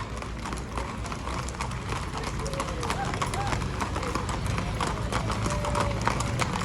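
Horses' hooves clip-clop steadily along a street at a veterans parade, a dense continuous patter under a voice talking over crowd noise.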